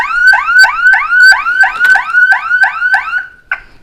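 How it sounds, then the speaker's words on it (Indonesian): A loud car alarm on a Toyota Kijang Kapsul diesel whooping in rapid repeated rising chirps, close by, cutting off abruptly near the end. "Alarm mobil ini terlalu sensitif banget."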